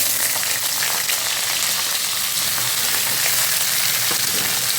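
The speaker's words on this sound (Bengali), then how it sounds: "দিয়ে এটা একটু ভাজতে হবে এখন।" Cauliflower frying in a pan with cumin, five-spice, salt and turmeric gives a loud, dense, continuous sizzle up close, a steady crackling hiss with no talking.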